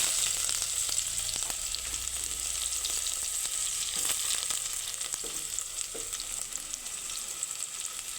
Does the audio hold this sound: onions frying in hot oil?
yes